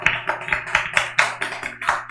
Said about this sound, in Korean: 박수 쳐.